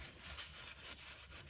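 A cloth rubs and wipes over car brake parts of a 2014 Kia Sportage 2.0 CRDI in quick repeated back-and-forth strokes, soft, close and scratchy, with no talking.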